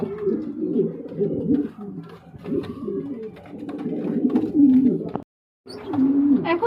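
Pigeons, a laying pair kept for sale, cooing in repeated throaty bursts close by, the calls running almost continuously with a brief silent gap near the end.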